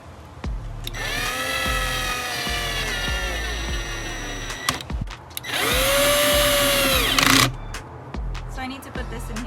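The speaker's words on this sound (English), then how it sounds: "So we're going to be tightening both of these clamps now." A power tool whines and revs in bursts while tightening hose clamps on an aftermarket carbon fiber intake elbow in a BMW E90 M3 V8 engine bay, close and loud, with brief pauses between runs.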